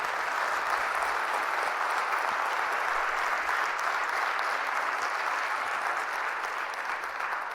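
A church congregation applauds steadily and loudly for about seven seconds, a dense, even wash of many hands clapping with no voices standing out.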